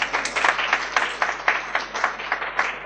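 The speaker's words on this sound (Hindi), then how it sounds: "जोरदार तालियां" An audience at an astrology gathering claps for a guest being introduced, a fairly thin, rhythmic patter of hand claps from a modest crowd, steady for a few seconds.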